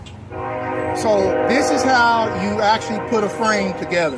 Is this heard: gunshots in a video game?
no